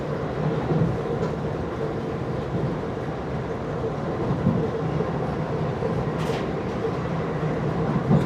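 Steady rumble of a Vande Bharat Express train running at speed after leaving a station, heard from inside by a door on a Bengaluru to Ernakulam run, with a continuous low roar, faint rail clatter and a brief hiss near the end.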